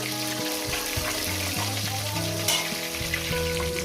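Katla fish pieces fry in hot oil with a constant crackling sizzle close by, and a soft tonal hum runs underneath.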